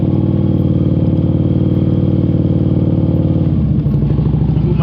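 A motorcycle engine runs close and loud through a slow U-turn with the clutch feathered, a continuous throbbing mid-pitched drone with a slight shift in tone near the end.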